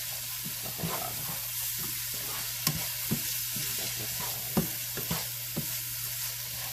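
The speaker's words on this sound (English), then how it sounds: "let me stir this" Beef chili being stirred in a pot, a soft steady sizzle and simmer with scattered scraping clicks of the spoon against the pot, close and fairly quiet, with no talking.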